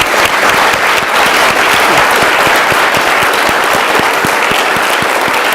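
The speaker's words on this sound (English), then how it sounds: "So let's give them a round of applause." Panel audience at a clean growth and sustainability event gives a sustained, loud round of applause, dense clapping from many hands filling the room without a pause.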